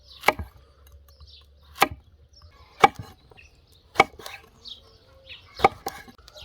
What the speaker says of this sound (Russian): Нарезаю довольно-таки крупно.